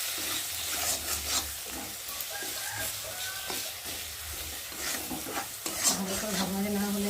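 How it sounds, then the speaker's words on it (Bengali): Sweet spice masala with cumin and turmeric frying in a pan: a steady oil sizzle under repeated scraping and stirring strokes of a spoon against the pan, close and continuous with no talk. "মিষ্টি মশলাটা ভালো করে ভেজে নেব।"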